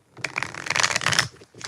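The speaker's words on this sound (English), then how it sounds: "5 shuffles for Ruth Smith" A deck of tarot cards being shuffled up close gives quick papery riffles and flicks in a dense burst, a brief pause, then more riffling, with no talk.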